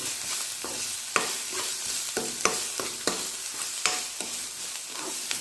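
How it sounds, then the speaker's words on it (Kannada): Onion and green chillies frying in a pan, a dense close sizzle punctuated by regular scraping stirs of a spatula every second or so. "ಹಾಗೆಯೇ ಒಂದು ಈರುಳ್ಳಿ, ದೊಡ್ಡದಾದ ಈರುಳ್ಳಿ, ನೆಕ್ಸ್ಟು 1-2 ಹಸಿಮೆಣಸು, ಸ್ವಲ್ಪ ಚೆನ್ನಾಗಿ ಫ್ರೈ ಮಾಡ್ಕೊಳ್ಳೋಣ"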